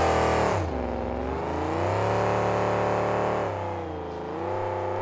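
Monster truck Comet with a 1961 Chevy C10 body, driven by Fred Moore at a 2007 event in Tacoma, Washington: a loud, sustained engine drone that rises and falls in pitch as the truck revs, with no talk.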